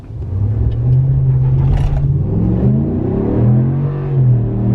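A Ram Rebel pickup truck engine revs and rumbles at low pitch during a brake torque, rising and falling in steady surges, close by with no talking.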